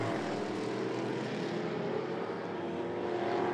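Stock cars racing at I-75 Raceway, a steady loud roar of several engines passing close together and droning continuously without a break, with no voices over it.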